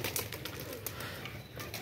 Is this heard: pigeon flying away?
yes